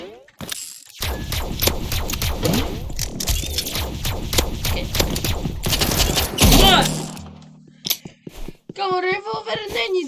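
Revolver gunfire in the Roblox game Rivals: a dense burst of sharp, repeated game shots and impact clatter, loud and close, followed by a brief pause and electronic game tones, with a player talking over parts of it.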